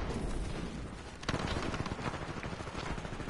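Steady gunfire in the video game Titanfall 2 during a sniper rifle match, a dense continuous barrage of shots and impacts filling the whole stretch at even loudness.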